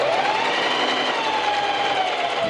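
A sewing machine runs steadily while stitching a fabric sleeve, a close, even motor whir held for a couple of seconds without a break, and nobody talks over it.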